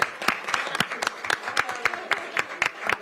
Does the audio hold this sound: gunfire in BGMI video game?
no